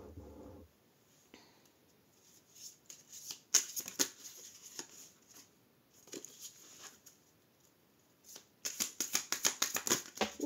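Tarot cards being shuffled and drawn, quiet riffling and sliding bursts that grow busier and louder toward the end, with short soft flicks between, no talk.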